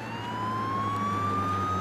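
An ambulance siren sounds as a loud, steady wailing tone that rises slowly, with a low engine rumble underneath and no speech.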